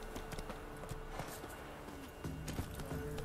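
Hooves of Roach, a horse in The Witcher 3: Wild Hunt, clip-clop in a steady running rhythm at moderate distance over a faint background hum.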